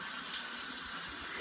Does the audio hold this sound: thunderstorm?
no